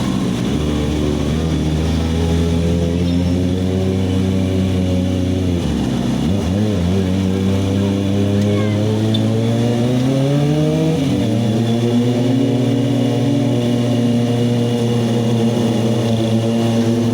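A Kawasaki Ninja ZX-25R 250cc inline-four motorcycle holds a loud, steady high-pitched engine note, with pitch rising and falling through several revs close by.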